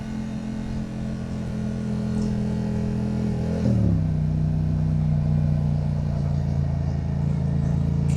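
A vehicle engine held at low RPM, a steady mid-pitched drone that deepens and settles to a lower, smoother hum partway through, close and continuous with no talk.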